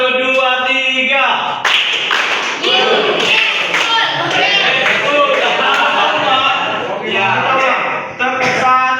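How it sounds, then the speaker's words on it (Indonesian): A classroom does a rhythmic clapping routine counted in threes: claps fall in short patterned groups while children's voices chant along over them, loud and close throughout. "Tepuk satu, dua, tiga."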